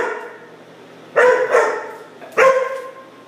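A dog barks twice, loud and close, with each sharp bark trailing off into a brief echo in an otherwise quiet room.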